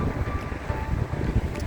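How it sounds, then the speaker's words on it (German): Strong wind buffets and roars against the microphone in a continuous low rumble, with no voices. "hier ist es wirklich übel kalt und windig"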